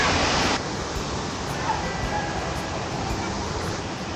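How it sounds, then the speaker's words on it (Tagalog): Strong, fast-flowing river water rushes continuously at Villa Filomena, a broad steady roar close by that fills the whole stretch without pause. "Tuloy-tuloy lang yung agos ng tubig. Kaya siguradong malinis. At ang lakas ng agos."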